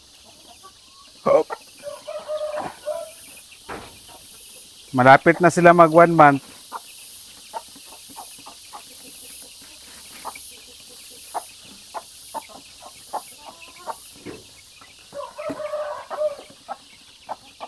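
Chicks nearly a month old on a small poultry farm peep and cluck in scattered bursts, with a loud cluster of calls midway, while a person talks briefly over them.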